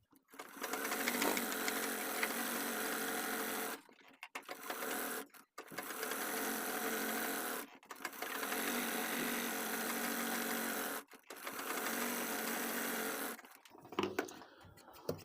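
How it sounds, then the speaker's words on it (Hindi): Sewing machine stitching handbag lining, a loud, close, steady mechanical whirr in several long runs of a few seconds each, separated by short pauses. "तो इसे हमें जमा लेना है एक सिलाई लगा के।"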